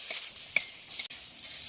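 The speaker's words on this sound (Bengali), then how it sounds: "পনিরগুলো এই পিঠটা ভাজার জন্য উল্টে দেবো।" Paneer pieces turned over in sizzling butter in a kadai crackle quietly, with a few light clicks from the flipping utensil over a soft frying hiss.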